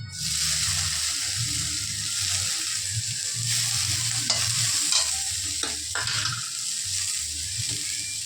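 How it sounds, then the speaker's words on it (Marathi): Paneer cubes fry in hot oil beside roasted onion while making paneer pizza, giving a steady close sizzle with occasional stirring scrapes and brief crackles throughout, with no voices. "कांदा पण भाजून रेडी आहे तेल आता टाकत आहोत आपण पनीर"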